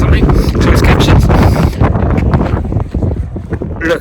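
Strong gusty wind buffets the microphone outdoors during cold open-water wild swimming in the USA, a loud roaring rumble that swells and eases, with a person's voice partly heard beneath it.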